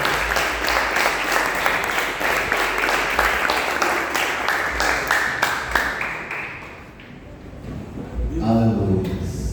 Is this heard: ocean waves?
no